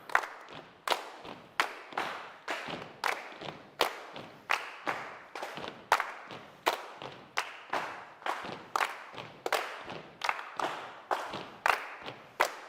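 A group clapping their hands together in unison with eyes closed, about eighteen crisp claps in a slow, even beat, each one sharp and distinct, heard fairly quietly with no talking between them.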